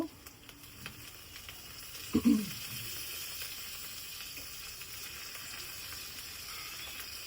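Tomatoes going into spices frying in white oil for a homemade Bengali chicken curry: a soft, steady sizzle runs throughout, with a brief louder splatter as they hit the pan.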